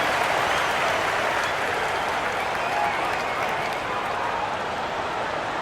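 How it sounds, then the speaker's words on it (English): Arena crowd in NBA 2K24 during a Pacers–Nets game gives steady, moderately loud applause with a crowd murmur underneath, holding evenly for several seconds. "Fans, please give a big round of applause for your Pacers Youth Dance Team"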